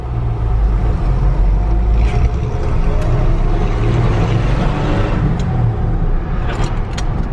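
Engine of a 1965 Ford F100 pickup idling with a faulty clutch throwout bearing, a steady loud low rumble running unbroken throughout with a faint whirring grind on top.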